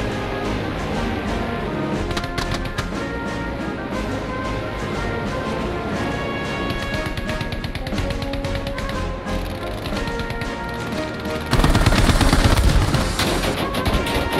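Aircraft machine guns rattle in sustained rapid bursts against an ME-109 during a Battlefield 5 air fight, layered with constant engine drone and louder, denser firing near the end; no one speaks.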